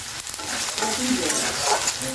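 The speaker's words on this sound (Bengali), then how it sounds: "পেঁয়াজটা বারবার ধরে নাড়তে হবে যাতে পেঁয়াজ লঙ্কাটা খুব লাল হয়ে যায় এই জন্য আমি বারবার ধরে নাড়ছি এটা" Onion and chili frying in oil as a spatula stirs them over and over for greens, a steady close sizzle with scraping strokes throughout.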